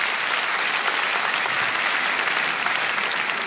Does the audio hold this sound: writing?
no